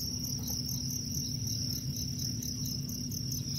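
Crickets kept as feeder prey inside a scorpion enclosure chirp continuously in a dense, even chorus, with a steady low hum of the room underneath.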